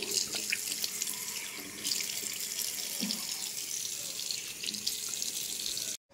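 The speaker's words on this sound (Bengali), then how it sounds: "এখন চলো আমি মুখটা ভালো করে ধুয়ে নিই।" Tap water running steadily into a sink for a face wash, a continuous close hissing splash with faint drips, no voices, cutting off abruptly at the end.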